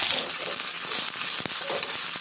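Chopped onion and black cumin seeds sizzle in hot oil in a heated pan, a bright, crackling hiss with small pops and occasional stirring clicks, close and steady for a couple of seconds.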